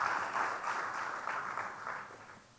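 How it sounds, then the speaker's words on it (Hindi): Audience applause at a mushaira and kavi sammelan at Jashn-e-Adab in Jaipur, honoring the poet Ramesh Sharma; fairly quiet, distant clapping that swells and then fades over a couple of seconds. "ज़ोरदार तालियाँ"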